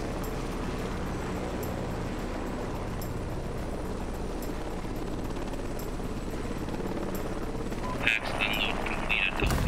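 Helicopter in the combat game Heliborne, a steady droning rotor and engine roar that holds throughout, with a brief voice and a louder burst of activity near the end.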